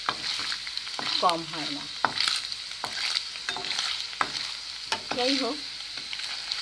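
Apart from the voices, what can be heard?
paneer frying in a pan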